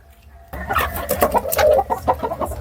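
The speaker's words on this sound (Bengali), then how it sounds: "আর এই যে পাশেই মুরগিগুলো" Chickens cluck and squawk nearby in a busy, irregular stream after a quiet start, in a chicken coop.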